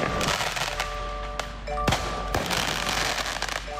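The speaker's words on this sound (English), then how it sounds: "Video from the Citizens app shows multiple fireworks going off as a large fire takes over a home" Multiple fireworks crackle and pop in rapid bursts beside a large house fire in Jefferson Park, loud and continuous with occasional sharp whistles cutting through.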